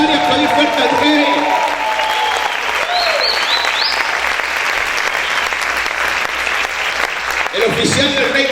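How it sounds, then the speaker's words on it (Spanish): A church congregation claps and shouts loudly in sustained, dense applause with cheering voices throughout, and a few raised shouts rise above the crowd noise. "¿Cuántos pueden gritar y aplaudir fuerte al rey?"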